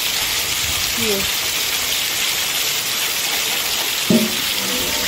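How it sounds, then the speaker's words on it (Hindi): Heavy monsoon rain pouring into a flooded courtyard at a hillside home, a dense, loud, continuous hiss and splatter throughout, with a brief spoken word and a faint voice over the downpour. "आज तो बहुत ही ज़्यादा बारिश हो रही है, पूरे आंगन में पानी भर गया"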